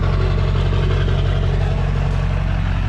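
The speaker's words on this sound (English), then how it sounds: "It's at idle. It's an LB7" An LB7 Duramax diesel truck engine idles steadily, a constant low rumble with even harmonic pulses throughout and no talk.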